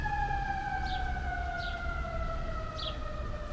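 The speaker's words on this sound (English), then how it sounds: "Sort of like a fire engine, fire truck." A fire engine siren wails from a city street in Philadelphia, a steady sustained tone sliding slowly downward over low traffic rumble, moderately distant and continuous, with no one speaking.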